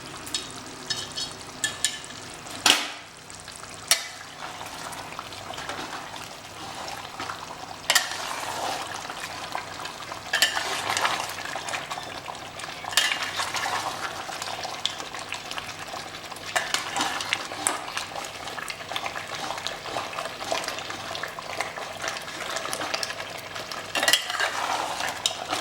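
Mutton curry with kachri sizzling and frying on high flame in a pot, steady crackling hiss under repeated scraping and clinking of a spoon as it is stirred, close and continuous with no talk.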